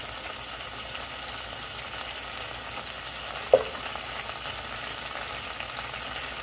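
Two tablespoons of butter sizzling in a hot pan, a steady close frying hiss with one sharp clink partway through, no voices.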